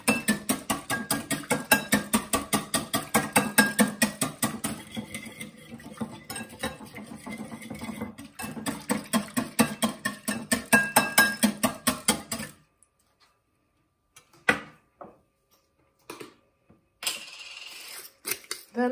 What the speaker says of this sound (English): Gonna use a whisk for that. Just get rid of the clumps, it's a lot easier with a whisk.